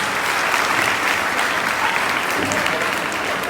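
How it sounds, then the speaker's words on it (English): Loud, sustained applause from an audience at a school event at Cathedral High School, dense steady clapping throughout with a faint crowd murmur beneath. "Give them a huge round of applause."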